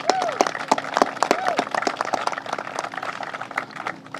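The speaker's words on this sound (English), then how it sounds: "Let's give them a round of applause for what they have done." Scattered, crisp handclaps from a small audience at a Sodus Point, New York briefing honoring National Guard generals, close and uneven, with talking and a whistle-like tone at the start.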